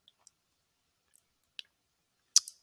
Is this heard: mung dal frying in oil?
no